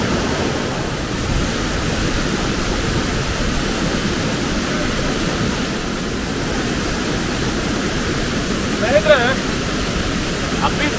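Abbi Falls (Abhigundi) waterfall near Mudigere, Chikkamagaluru, roars as a steady, dense broadband rush of falling water throughout, with a few brief higher-pitched sounds near the end.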